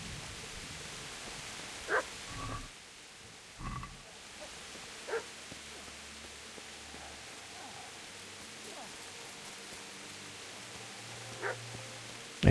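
A dog barking in the video game Kingdom Come: Deliverance: a few short, separated barks at irregular intervals over a soft background hiss, with a final sharp bark at the end.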